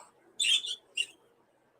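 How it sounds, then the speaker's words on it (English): Pet parakeets chirping indoors: two short bursts of bright, scratchy chirps close by, separated by a brief pause. "Now you got parakeets doing it."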